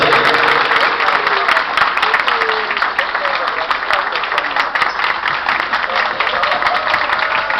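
Loud sustained applause fills a wedding hall in Amsterdam, many hands clapping at once with faint voices and cheering mixed underneath.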